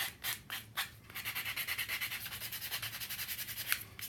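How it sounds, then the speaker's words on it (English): Rhythmic back-and-forth rubbing of sandpaper on a small recycled-material miniature chest of drawers, soft close strokes in a steady quick pulse with a few heavier scrapes. "see how nice it's sanding?"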